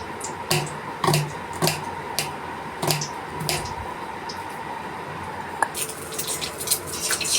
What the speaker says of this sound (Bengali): এবার আমি নিয়ে নিচ্ছি একটা পেঁয়াজটাকে খুব পাতলা পাতলা করে কেটে দেবো